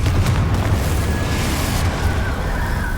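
A Confringo spell explosion in the Hogwarts Legacy video game, heard as a sustained, loud, rumbling blast with deep low-end boom and crackling texture that holds steady throughout, with no talk.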